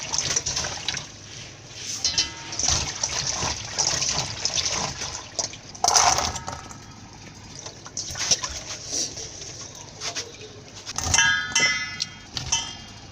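Grated coconut being washed by hand in a bowl of water to rinse out sand, with steady sloshing and splashing, a few louder splashes and brief clinks, close and alone with no talking.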